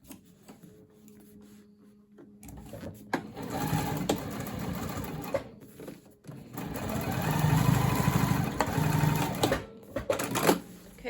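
A sewing machine top stitches along a seam of a crossbody bag in bursts of rapid mechanical whirring, close by, with brief pauses and someone talking at times.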